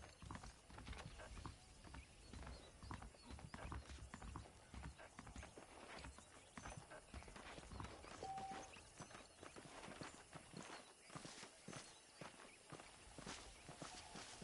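Horses clip-clop along in the Red Dead Redemption video game, a steady run of hoofbeats with occasional neighs, mid-distance and continuous over game ambience.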